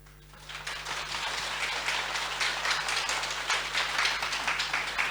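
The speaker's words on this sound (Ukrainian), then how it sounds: "Ще ще гучніше, гучніше, гучніше аплодуємо першим промовцям на сьогоднішньому шоу" An audience at a live show applauds its first speakers, a dense, continuous wash of many hands clapping that rises quickly and holds steady, with a faint low hum underneath.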